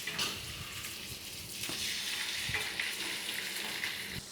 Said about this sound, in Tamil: அடுத்து தயிர் ஊற்ற போகிறோம்.